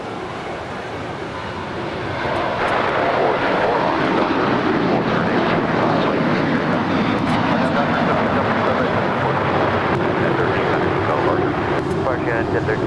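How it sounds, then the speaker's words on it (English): A Delta Airlines 757-200 arriving at LAX from Guatemala City, a loud steady jet engine roar that swells and holds close by, with a person talking over it. "Delta Airlines flight 1903 coming in from Guatemala City"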